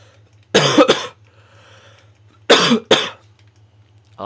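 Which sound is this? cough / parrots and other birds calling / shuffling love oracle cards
cough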